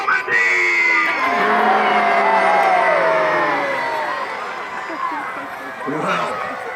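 Spectators at a Battle of Hastings reenactment cheering and booing, a loud mass of whoops and jeers that swells early, eases off, then surges again near the end.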